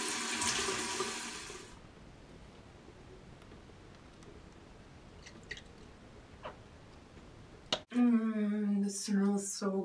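Water runs from a bathroom faucet in the first two seconds, a steady hiss under faint sounds, followed by quiet and then a person talking near the end.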